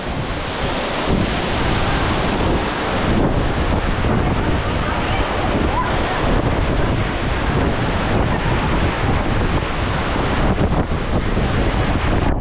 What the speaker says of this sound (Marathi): कसलं पाणी उडतंय बघा.